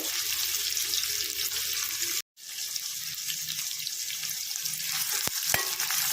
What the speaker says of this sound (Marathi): कांदा आपल्याला पूर्ण लाल होईपर्यंत भाजून द्यायचा आहे